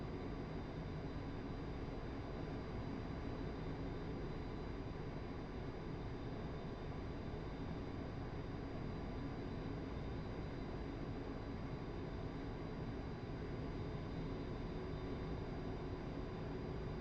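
An A-10C jet engine in DCS World drones as a steady, unbroken broadband roar with a faint high whine, constant in level throughout, with no voices.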